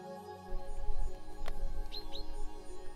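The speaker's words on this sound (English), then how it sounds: "I can hear a bird." A bird outdoors gives two short, bright chirps close together near the end, over steady background hum and low rumble, with no talking.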